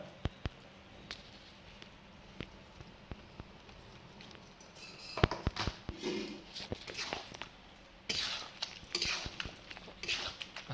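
A spoon stirs turmeric and chili powder into a curry-leaf chicken curry in a pan, with faint scrapes and small metallic clinks that grow busier midway, quiet and close.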